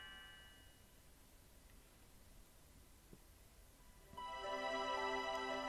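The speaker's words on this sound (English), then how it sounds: "Ah, Lean's bell makes such a beautiful music." Leene's bell in the Chrono Trigger video game, a bright ringing chime that enters late after faint quiet background and sustains with rich tonal overtones.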